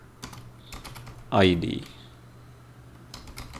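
Soft clicking of computer keys while coding in Java comes in short bursts around a brief spoken word, close and quiet.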